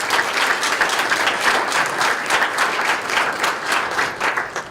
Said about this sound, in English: So a round of applause for Rob as well.